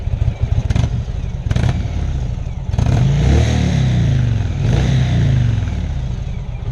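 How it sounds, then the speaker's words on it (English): A 2016 Indian Chieftain motorcycle idles after a warm start, a close, loud, rumbling engine with a loping beat, broken by a few sharp clattering blips of throttle, with no voices. "Let's listen to the sound first. That's that idle with a warm start."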